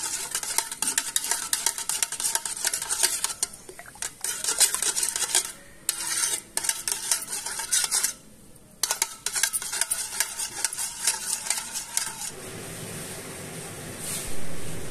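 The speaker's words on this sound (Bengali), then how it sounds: "টক দইটা ফেটিয়ে নিয়েছি" Sour yogurt whisked in a bowl, a close, continuous run of quick scraping and clinking strokes against the vessel with a few short pauses, ending in a softer hiss.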